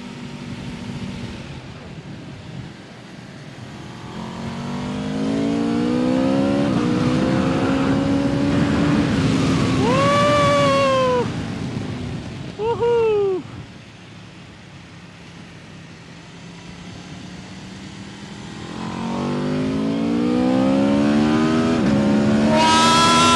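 A 2023 Aprilia RSV4 superbike on a test ride pulls hard through the gears, its engine screaming upward in repeated rising sweeps with sharp shifts between them, loud and close amid rushing wind.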